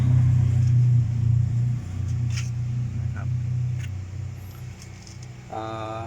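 A Proton Gen2 car engine running rough and misfiring with one spark plug removed, an uneven low idle rumble that dips and stutters, heard close with someone talking over it.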